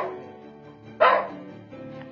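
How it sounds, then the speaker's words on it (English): A dog gives a single sharp bark partway through, close and fairly loud, against a quiet indoor background with soft tonal sounds. "it's a story of a dog who has been patiently waiting for a bit of muffin"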